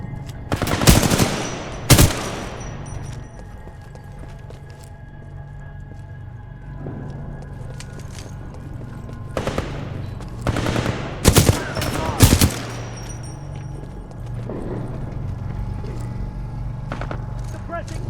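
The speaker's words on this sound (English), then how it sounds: "Suppressing fire!" Several bursts of automatic gunfire in the video game Titanfall 2, some sharp and close, others in quick clusters, with a steady low hum running throughout and voices calling out between the shots.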